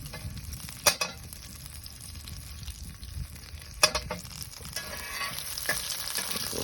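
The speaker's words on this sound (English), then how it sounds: "Got us some good sausage cooking here." Sausage cooking over a campfire, a faint continuous sizzle and crackle with a couple of sharp pops, fairly quiet and without talk.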